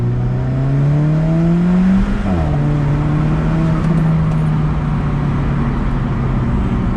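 A turbocharged Alfa Romeo 4C engine revs loudly up close, then its pitch drops and settles into a steady, full drone that continues to the end.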